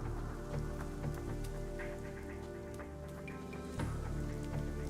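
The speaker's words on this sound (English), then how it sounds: "Is it raining? It is." Steady rain pattering in Gothic Remake, a dense continuous hiss of drops with faint scattered ticks, alone and at a constant moderate level.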